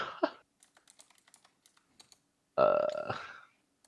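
Scattered keyboard keystrokes tap irregularly at close range during a competitive esports scrim, with a short loud burst of a voice-like sound near the end.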